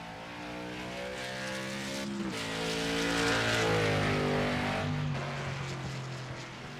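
A late model stock car engine rises and falls in pitch as the car pulls out onto a road course at USA International, strong harmonic drone growing louder then easing, with no talk over it.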